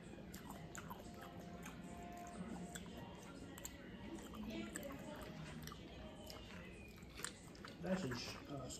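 Close, wet chewing of buttery scampi shrimp during a seafood eating session, with soft squishy bites and small clicks over a quiet room, a slightly louder bite near the end.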